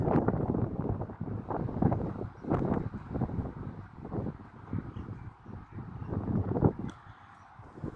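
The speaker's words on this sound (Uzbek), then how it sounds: "Bizda shamol bo'lyapti, ajoyib shabada" Gusty wind buffets the microphone in rough, low rumbling bursts that rise and fall throughout, with no voices.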